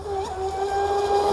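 An RC mono hull boat with a cut-down 448 propeller runs across water, its steady, loud high-pitched motor whine holding near and constant with slight wavering.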